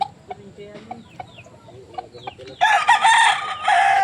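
Scattered soft chicken clucks at first, then a loud, sustained rooster-like crowing bursts in close by and carries to the end.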